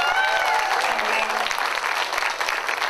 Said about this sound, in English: Y'all give yourselves a big round of applause